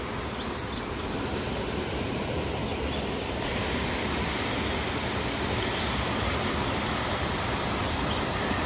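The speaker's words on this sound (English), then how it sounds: "Oh, I love the sound of moving water." Water flows near Lake Ripley in Litchfield, Minnesota, a steady, dense broadband rush that stays even and fairly loud for nearly nine seconds with no voices.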